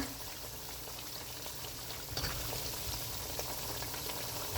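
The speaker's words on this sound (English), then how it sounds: "I'm gonna let it fry some more" Pork sizzles steadily in a pot as it fries for Jamaican-style sweet and sour pork, a dense continuous crackle and bubbling that swells slightly louder about halfway through, with no talking.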